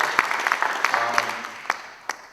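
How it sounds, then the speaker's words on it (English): A modest debate audience at the Tewksbury Senate debate gives scattered, sparse claps for the candidates, thinning out and fading toward the end. "anybody that puts their name on the ballot deserves a round of applause"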